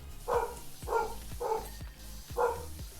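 A dog barks four times in a steady rhythm, sharp mid-pitched woofs at moderate distance with a quiet room behind them.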